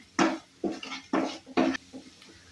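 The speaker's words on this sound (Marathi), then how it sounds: "परतवून घेते." Onion sautéing with chili powder in a pan for paneer butter masala, heard as several short clattering bursts of a spatula scraping and stirring against the pan, close and fairly loud, with brief pauses between strokes.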